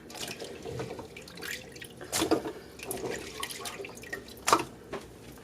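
Cold water runs from a kitchen tap into a sink, a steady splashing flow with a few louder spatters, close by and with no talking.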